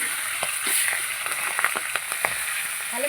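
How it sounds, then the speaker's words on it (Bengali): A catla fish head frying crisp in a pan, a steady close sizzle with small spattering crackles and a few scrapes, no voices. "এই মাথাগুলো ভেঙে কড়ার মতো ভেজে নেব।"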